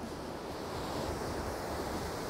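Ocean surf at Tahara beach in Japan, a continuous wash of breaking waves with wind buffeting the microphone, steady and fairly loud with no voices.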